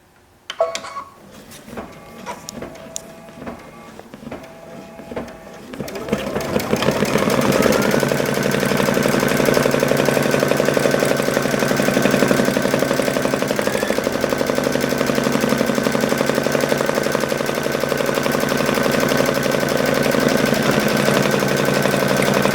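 Embroidery machine stitching a red cover stitch on sweater sleeves: sparse clicks and taps at first, then a loud, continuous rapid mechanical chatter and whir that holds steady to the end.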